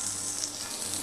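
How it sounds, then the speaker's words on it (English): Steaks searing in hot olive oil in a pan, a steady, soft hiss of sizzling fat that fills the whole moment without pause. "And that's the sound you wanna hear, that sizzle."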